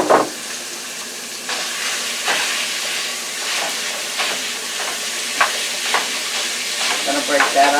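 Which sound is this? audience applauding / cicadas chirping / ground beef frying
ground beef frying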